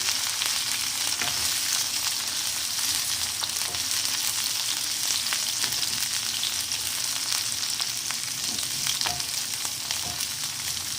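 Okra (bhindi) frying in a pan, a dense, even sizzle with faint stirring clicks, close and continuous throughout with no voices.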